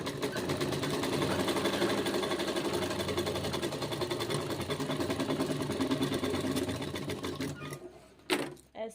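A sewing machine runs steadily while stitching a suit, a dense continuous mechanical whir with rapid needle rhythm that stops near the end, followed by a couple of brief handling knocks.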